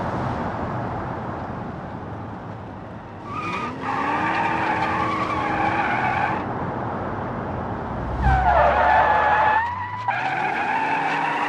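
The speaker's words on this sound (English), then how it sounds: "This car slides surprisingly well for open differential." BeamNG.drive Mustang tires screech in long sliding squeals over a droning engine that revs up and down, two loud skids separated by a brief pause.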